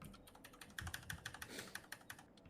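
Someone types on a computer keyboard, producing a quick, steady run of light clicking keystrokes that sound fairly faint and close, with no speech over them.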